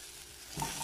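Tuscan sausage and onion sizzle in a frying pan with steady stirring, the frying growing louder and fuller as fresh onion drops in near the end of a brief moment.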